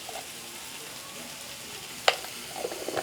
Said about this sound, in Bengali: আলু সয়াবিনটারে আমি ভালো করে মশলার সাথে একটু কষিয়ে নেব